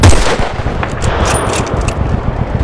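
Gunfire in Battlefield Bad Company 2: loud, rapid bursts of automatic weapon fire crackle continuously at close range, layered with distant shots and battlefield rumble, with no clear talk over it.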